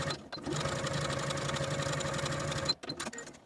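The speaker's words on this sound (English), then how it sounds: "I'm going to sew all along this raw edge all along the curve" A sewing machine runs in one steady continuous burst, stitching along the curved raw edge of a pant piece for a Simplicity 9647 fly-front pants project, then stops abruptly with a few small clicks and handling noises.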